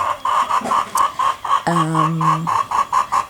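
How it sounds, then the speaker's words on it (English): A chicken clucks in a steady, repeated rhythm close by in a rural home garden setting, with a brief louder squawk partway through. "You can hear a chicken right next to me."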